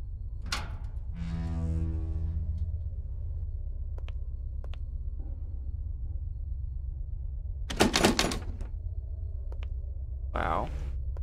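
Heavy doors opening and closing in the Paranormal Entities horror game, an abandoned hospital setting: a long creaking groan early on, then a sharp loud thud near the end over a low steady drone.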